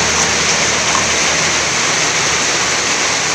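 Very heavy rain pours down outside, a loud, dense, unbroken roar of falling water with no pauses, filling the whole moment.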